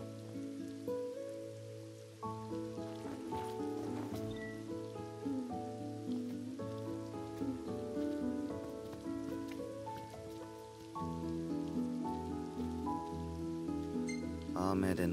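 In Final Fantasy XV, steady rain falls during an outdoor campsite scene, a constant hiss beneath prominent melodic game music throughout.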